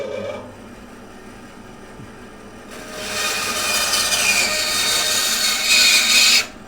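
A saw resaws holey box elder wood, starting after a quiet lull as a harsh, rising rasp of cutting that grows louder and steadier for several seconds before stopping abruptly, close with no talk.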